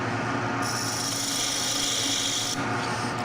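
A woodturning gouge cuts an angle on a spinning piece on a wood lathe, giving a steady close hiss and scraping rasp over the lathe's constant hum, with the cut lasting about two seconds.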